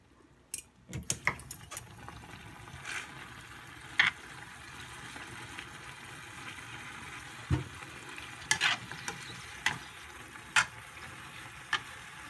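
Chapagetti noodles with sauce and ham are stirred in a pan, quiet scraping and clicking utensil strokes at irregular intervals over a faint sizzle, with no talking.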